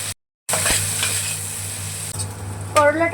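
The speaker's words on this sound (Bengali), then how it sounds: "তেলটা গরম হয়ে গেছে, এবার উচ্ছেগুলো ভেজে নেব" Bitter gourd pieces fry in hot oil with a loud, steady sizzle and occasional stirring scrapes, after a brief silent gap at the start.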